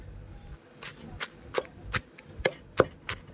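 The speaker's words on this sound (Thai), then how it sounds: "จะโขลกรวมกันแบบนี้" Shallots and fingerroot pounded together in a mortar for a spicy Thai fish curry for rice noodles: a steady series of sharp, close thuds about every half second.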